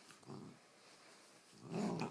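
A Great Dane puppy gives two low, rough growls, one short and one longer, quiet and close against a faint hiss of room noise.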